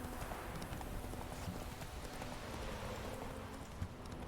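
Hooves of Roach, the horse in The Witcher video game, clip-clopping in a steady walking rhythm, faint and low in level against a constant wash of ambient game noise.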